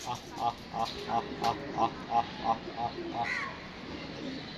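Repeated soft cooing calls of pigeons on a rooftop in a steady rhythm, about ten in a row, with background noise and a faint voice near the end.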